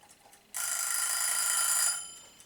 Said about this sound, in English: Is the buzzer going to go off?